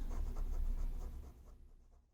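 Quick marker or chalk strokes on a board while writing out a probability statistics note, a close burst of scratchy writing that fades out after about a second and a half.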